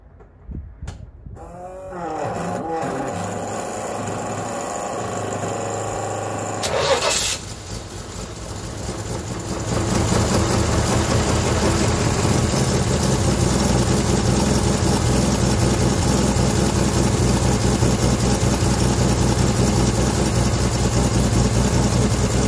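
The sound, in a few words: car engine starting after ignition turned on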